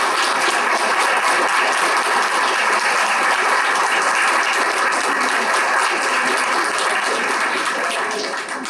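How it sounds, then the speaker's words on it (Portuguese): An audience at a tribute to a professor gives a loud, sustained round of applause that fills the clip almost unbroken and fades slightly at the very end. "palmas"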